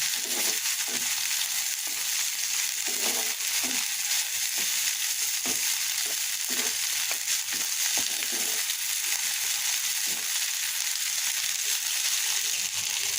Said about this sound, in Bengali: এখন আমি এই যে পেঁয়াজ রসুন আর চিংড়ি মাছ দিয়ে ভেজে নিচ্ছি